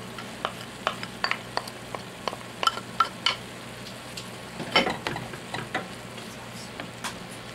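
Vegetables for pansit bihon go into a hot frying pan with a soft, steady sizzle, broken by a string of sharp clicks and scrapes as a utensil stirs against the pan.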